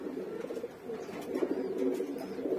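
A female red checker pigeon coos in a low, soft, throaty murmur that rolls on continuously, fairly faint and close, with no voices over it.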